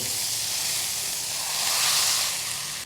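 Hot oil sprinkled with turmeric hisses and sizzles as it is taken off the flame for a paneer tikka marinade, a steady close, fairly quiet crackle that swells slightly midway and stops abruptly.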